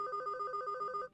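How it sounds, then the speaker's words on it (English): A phone rings in the video game Heart Fragment: a clean electronic ringtone trilling in rapid, steady pulses for about a second, clear and alone before cutting off. "you hear a ringing noise, and your father takes his phone out of his pocket"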